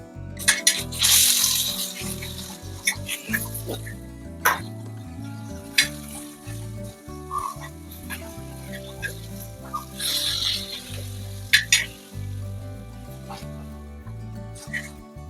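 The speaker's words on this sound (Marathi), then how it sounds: "आता आपले फिश दुसऱ्या बाजूनेही फ्राय झालेले आहेत" Fresh pomfret fries in a pan on low heat, turned to crisp on both sides: an uneven sizzle with sharp spattering pops and clatters that come and go across the stretch, moderately loud and close.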